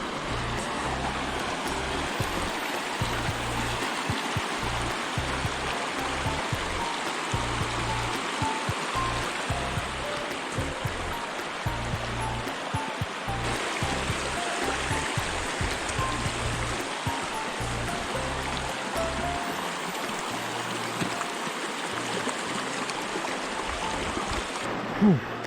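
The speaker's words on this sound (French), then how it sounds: "Petite rivière à traverser." A small river in Swedish Lapland along the Kungsleden trail rushes steadily, a continuous broad wash of flowing water, close and unbroken, with faint low intermittent sounds beneath.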